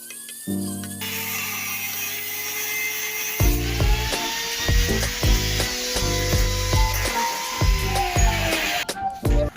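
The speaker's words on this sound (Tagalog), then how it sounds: "Sobrang haba niyan kaya kailangan natin yung putulin." A long metal piece being cut with a power tool while building a rotary table from junk material: a loud, continuous grinding whine runs throughout, with repeated heavy bursts of cutting noise in the latter half.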